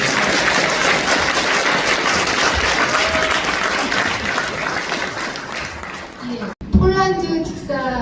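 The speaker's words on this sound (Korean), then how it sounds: "다시 한번 큰 축하의 박수를 보내드리겠습니다" Audience applause at a book concert for former lawmaker Min Byung-doo, a sustained, even wash of many hands clapping that tapers near the end before a voice briefly cuts in.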